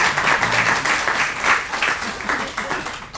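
A crowd at a housing grand opening claps for several seconds, steady and fairly close, with a voice speaking over part of it.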